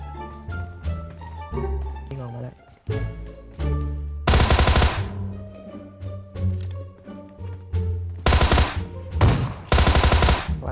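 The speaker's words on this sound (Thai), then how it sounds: "เฮ้ยใครมันยิงอะไรวะ มันยิงอะไรวะ" Bursts of automatic and single gunfire in PUBG Mobile, sharp loud shots clustered in several quick volleys with game sounds between them.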